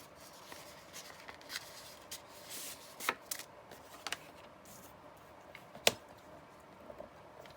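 Scissors snip paper ephemera for a junk journal, trimming a tiny edge; faint, scattered crisp cuts and paper rustles with a few sharper snaps, no talking.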